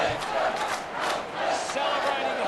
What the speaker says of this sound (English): The Carlton crowd are going immense here.